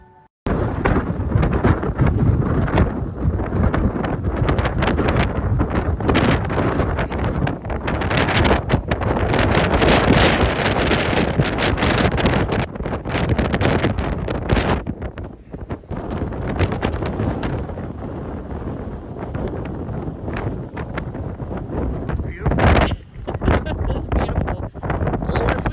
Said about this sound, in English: However, it is so windy outside, we are not able to do that on this day.